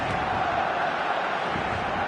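A football stadium crowd in a video game roars in a steady, dense wash of cheering and chanting that holds loud and unbroken throughout.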